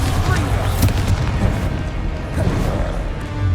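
A Bombarda spell explosion in the video game Hogwarts Legacy, a loud, dense booming crash that fills the whole moment over continuous rumbling game noise, with no clear gap or pause.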